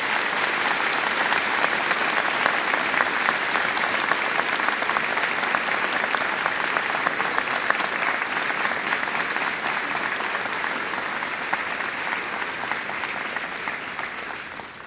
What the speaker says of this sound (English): May I ask the graduates of the class of 2011 to join in a round of applause for your families